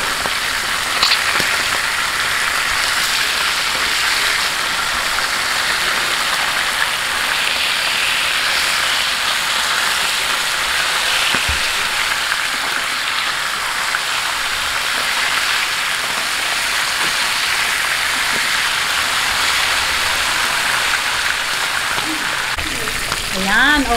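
Fatty bangus (milkfish) sizzles and crackles in hot oil in a pan while being cooked for binagoongan. The frying hiss stays loud, close and unbroken the whole time.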